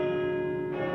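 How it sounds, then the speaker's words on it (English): A bell tolls in a Roblox horror game, a sustained ringing tone that holds steady and loud throughout the short moment. "How many bells are we hearing? How many dongs are we hearing?"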